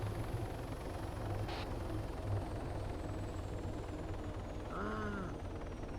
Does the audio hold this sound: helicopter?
yes